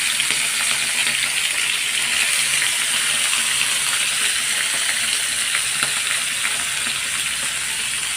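Fish frying in hot oil in a home kitchen, giving a steady, dense, close sizzle and crackle that runs unbroken and fairly loud throughout, with occasional small pops and no talking.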